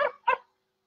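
A person imitates a dog with two quick, close barks, short and sharp, one after the other, followed by silence.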